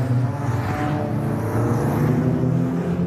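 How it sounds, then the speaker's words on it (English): Racing cars from the MG Cup and Metro Cup pull out onto the circuit for qualifying, a loud steady drone of several engines close by, blending into one continuous rumble with no talk over it. "the cars are heading out onto track for qualifying here"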